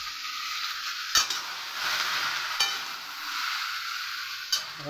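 Bottle gourd and chana dal curry cooking in a pan, a steady close sizzle with soft stirring scrapes and three sharp utensil knocks against the pan, with no talking.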